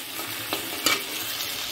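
Leafy greens fry in hot oil in a pan where fish was just fried, giving a steady close sizzle with a couple of brief stirring clatters and no talking.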